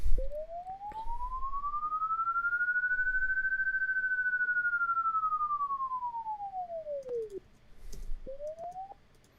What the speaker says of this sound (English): the part where the siren sweeps back down is the